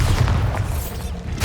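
A Bombarda blasting spell in Hogwarts Legacy lands as a heavy, booming explosion with deep low rumble, loud and close, over a dense game soundscape.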